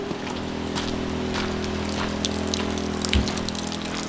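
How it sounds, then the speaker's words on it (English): Hail pelting down outside a truck camper, a dense steady patter of icy impacts with a low steady hum underneath and one heavier thump near the end; no one speaks. "It's hailing!"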